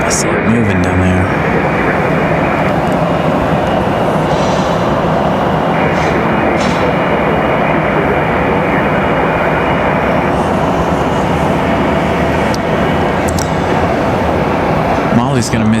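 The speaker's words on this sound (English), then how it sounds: "Hopefully we'll have uninterrupted sound by our MD-11." An MD-11 airliner's engines drone at Raleigh Durham International Airport, a loud, steady roar with a sustained whining tone that shifts in pitch, with people talking at times.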